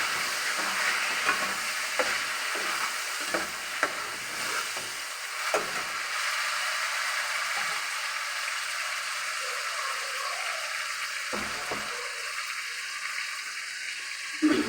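Chopped tomatoes frying in a pan with garlic for an aloo ki qatlian dish, a steady close sizzle with scraping stir strokes running throughout, no talking.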